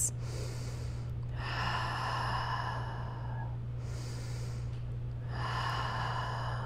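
Slow, steady breathing in a yoga pose, with two long, airy breaths separated by short pauses over a constant low hum, close and fairly soft, with no talking.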